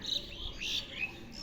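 Small birds chirping outdoors, faint high twittering calls in a few short bursts over quiet background hiss.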